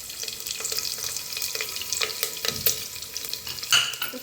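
Onion and asafoetida sauté in hot oil in a pan for vegetable pea-and-potato rice, with a low steady sizzle broken by repeated sharp spatula scrapes and taps against the pan.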